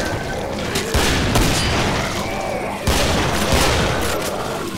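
Loud, close bursts of rapid gunfire in the video game Killing Floor come in repeated volleys, mixed with heavy booms and little pause between them.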